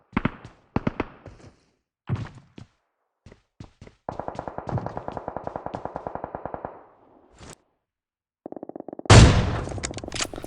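Gunfire in a battle royale game: sharp isolated shots, a long rapid automatic burst and a final loud heavy blast, close and prominent with brief silences between.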